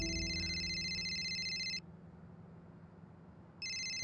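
A telephone rings in two bursts of steady electronic ringing tone, stopping for about two seconds between them, set against a quiet indoor background with no talking.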